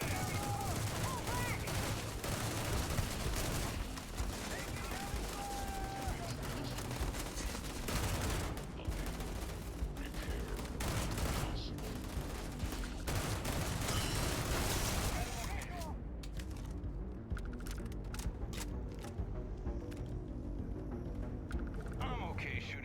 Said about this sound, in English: I'm okay shooting robots.